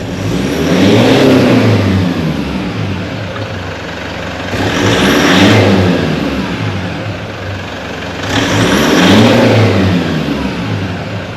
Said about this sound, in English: you'll hear the pitch of the engine change slightly within those 3 procedures